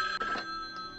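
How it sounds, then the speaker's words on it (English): A telephone rings inside a Halloween-themed video game, a bright electronic trill heard close and moderately loud for about a second, with no speech over it. "Oh, the phone's ringing."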